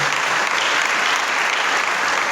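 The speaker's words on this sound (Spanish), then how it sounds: "Denle un aplauso al Señor, por favor, en esta mañana." A church congregation gives sustained applause during a morning service, a thick, even roar of many hands clapping that holds steady throughout.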